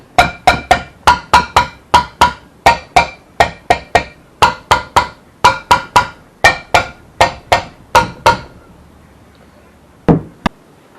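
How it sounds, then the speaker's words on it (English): Rapid metallic tapping on the valves of a Holden Torana UC cylinder head, dozens of sharp ringing knocks in quick irregular clusters, close and loud, then a pause and two final taps. "Just before you do, just give them a bit of a tap,"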